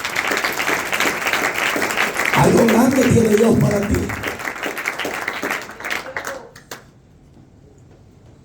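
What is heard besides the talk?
applause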